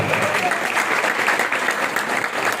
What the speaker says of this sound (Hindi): हम ताली तो बजा दो